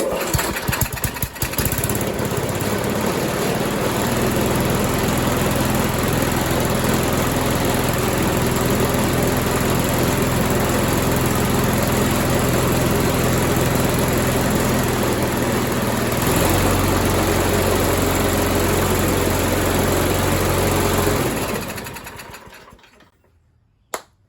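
An old push lawn mower's small engine runs loud and close at a steady idle-like drone for about twenty seconds, briefly shifting pitch partway, then cuts out and fades to near silence.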